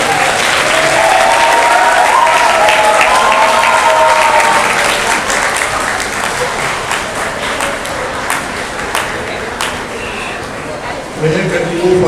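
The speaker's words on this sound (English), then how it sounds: "Let's also clap for them" Sustained audience applause at a school Teachers Day event, a loud dense crowd of clapping hands filling the whole stretch, with voices murmuring beneath and the clapping thinning slightly near the end.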